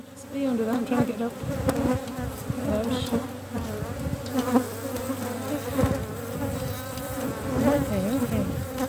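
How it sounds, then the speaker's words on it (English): Honeybees buzz close around an open backyard hive where drones are also present, a dense, continuous droning hum with individual bees swelling louder as they pass near. "There's a bee caught in my"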